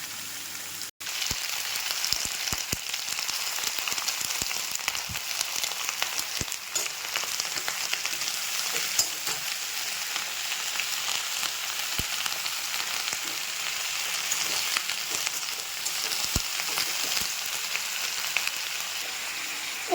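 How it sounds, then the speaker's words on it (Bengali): Winter vegetables sizzle in oil seasoned with panch phoron, a steady crackling fry like light rain lasting throughout, broken by scattered sharp pops and one loud clack near the start. "এবার সবজিগুলো ঢেলে দেবো"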